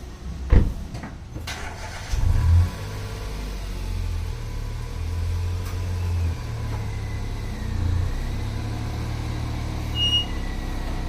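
A car engine cranks and catches, then settles into a steady low idle that rumbles on, close and fairly loud, with no talking.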